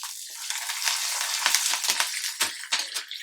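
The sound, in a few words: tempering spices frying in oil on low flame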